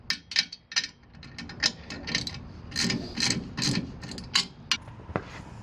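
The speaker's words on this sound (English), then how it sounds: "now that it's level, I'm going to go ahead and tighten these up" A ratchet tightens the bolts on a Riptide SL transport rack, giving repeated bursts of sharp clicking with short pauses between strokes, close and clear, with no talking.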